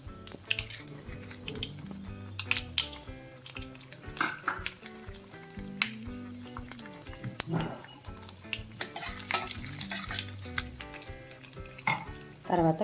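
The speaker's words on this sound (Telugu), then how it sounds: "ముందుగా ఆవాలు వేసుకుని తర్వాత శనగపప్పు మినపప్పు జీలకర్ర వేసుకుందాం" Mustard seeds, chana dal, urad dal and cumin fry in hot tempering oil for a hotel-style aloo kurma, giving a steady close sizzle and crackle with occasional clinks of a pan and spoon.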